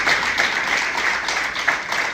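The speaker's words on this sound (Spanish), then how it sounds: "Le damos un aplauso a Jesús en esta noche." A church congregation claps together in steady, dense applause, loud and close, with no words spoken over it.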